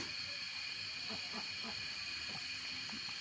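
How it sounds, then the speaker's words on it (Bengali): Fuchka (puri) dough frying in hot oil gives a steady, fairly quiet sizzling hiss, with faint scattered pops and crackles throughout. "আমি এখন ফুচকা তেলে দিব।"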